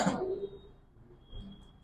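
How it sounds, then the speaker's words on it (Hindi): A single loud cough bursts out at the start, followed by a fainter rough throat sound about a second later, with no one speaking. "मुझे खांसी आने लगी।"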